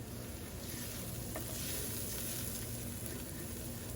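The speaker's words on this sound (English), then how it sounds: "I browned my onion and garlic and added the paprika." Onion and garlic browning in a pan with smoked Spanish paprika give a steady, close sizzle that stays even throughout, with no voices.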